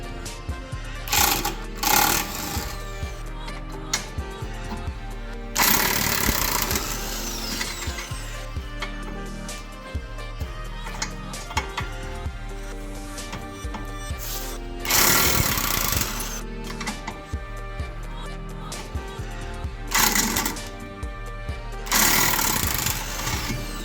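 Impact wrench on the ball joint of a Nissan Pathfinder 4x4, run in several loud, rattling bursts of a few seconds each with pauses between, alone and close up.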